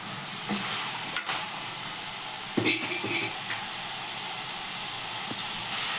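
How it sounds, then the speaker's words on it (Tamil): Potatoes sautéing in oil in a pan, a steady sizzle and hiss with a few sharp scraping stirs and utensil clinks, close by and without talking. "உருளைக்கிழங்கு எண்ணெயிலேயே ஒரு நிமிஷம் நல்லா வதக்கி விட்டுடலாங்க"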